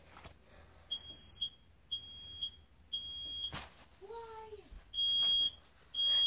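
A household smoke alarm, set off by steam from a hot shower, shrills in a run of short, piercing, evenly spaced beeps. The beeps pause briefly while someone speaks, then return louder and longer.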